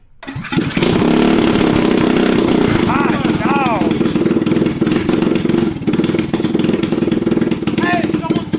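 A cheap mini Jeep fitted with a swapped racing engine runs loud and raspy, revving hard and bouncing throughout, with a voice shouting over the engine noise.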